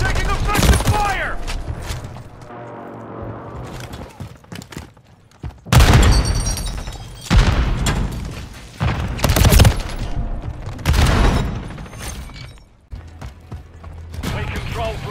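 Gunfire bursts in Modern Warfare 3 multiplayer, loud rapid volleys and booms arriving in clusters, with mechanical clicks and game voice callouts between them.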